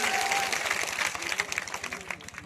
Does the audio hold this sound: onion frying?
no